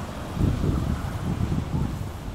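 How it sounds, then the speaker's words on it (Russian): Strong north wind of 11 metres per second roars steadily against the microphone, a dense low buffeting rumble with gusty swells throughout, during a winter snowfall at minus 11 degrees in Anadyr, Chukotka. "Северный ветер. 11 метров в секунду."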